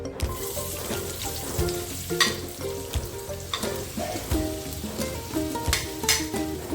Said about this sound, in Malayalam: വെളിച്ചെണ്ണ നന്നായി ചൂടായി അതിലേക്ക് ഒരു സബോള എടുത്ത് വലിയ സബോളയാണ്